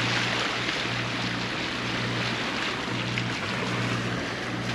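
Sailboat motor sailing on the sea in Greece with the mainsail up, a steady low engine drone under continuous hull and water wash, close and even throughout.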